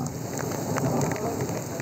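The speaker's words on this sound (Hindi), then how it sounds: "खुशाब में तेज बारिश से मौसम खुशगवार हो गया।" Heavy rain pouring down in Khushab, a dense continuous patter of drops hitting surfaces, steady and fairly loud with no pauses.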